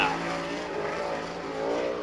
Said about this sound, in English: On the Speedway right now, riding aboard the Middlesworth Potato Chips, number 7 car from Mifflintown, Pennsylvania.